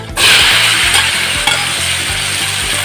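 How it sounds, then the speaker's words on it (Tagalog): Vegetables stir-fried in a pan for homemade Ilocano-style fried rice, a steady loud sizzle and fry with repeated scraping and stirring clatter of a utensil against the pan, close by and without talk. "igigisa na po natin itong ating mga vegetables"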